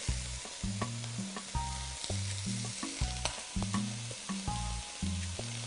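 Marinated meat pieces browning in a pot give a steady, close sizzle and crackle with occasional stirring, set against a rhythmic, tonal musical backing.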